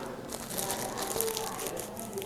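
A small plastic bag crinkles close by as decorative silk plaster is pressed into it with a spatula, soft crackly rustling running continuously for a couple of seconds.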